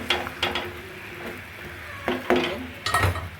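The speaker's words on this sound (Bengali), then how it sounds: "এইভাবে নেড়ে দেবেন।" Sweet potato, pumpkin and other mixed vegetables are stirred in a pan for a pickle-style dish. A spatula knocks and scrapes against the pan in about five separate strokes over a low sizzle, and nobody speaks.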